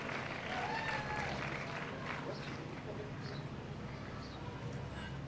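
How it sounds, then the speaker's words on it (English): A crowd at a Juneteenth celebration applauds steadily after a performance, with sustained clapping and scattered cheers mixed with faint voices. "we gotta give her one more round of applause, y'all."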